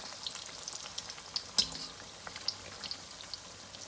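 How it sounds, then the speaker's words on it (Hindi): Broccoli cheese balls frying gently in oil over low heat, a faint, steady crackle of tiny pops with one sharper spit in the middle, quiet and close, no talking. "बाद में आप आंच को स्लो कर दें और धीमी आंच पर इनको फ्राई करें।"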